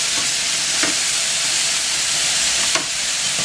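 Mussels stirred quickly on a hot plancha griddle: a loud, continuous sizzle fills the whole stretch, broken by a couple of brief scraping stirs, with no talking.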